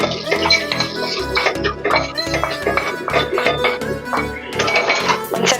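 Rice mixed with masala is stirred in a hot pan, a spoon scraping and clinking against the metal in an uneven rhythm, close and fairly loud over some background music.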